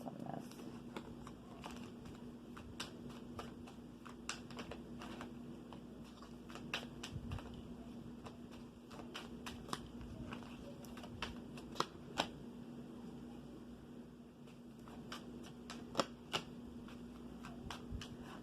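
A deck of tarot cards is shuffled in quiet, soft riffles and light flicks, close and faint over a low steady hum, with no talk.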